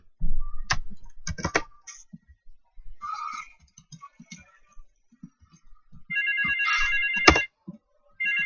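A phone rings in GTA Vice City, a short electronic ring-tone burst near the end after scattered clicks and brief game sounds; no speech.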